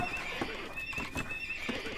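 A horse neighs in the video game Age of Empires 2, a high whinny with repeated brief clip-clop accents over steady in-game ambience, moderately loud throughout.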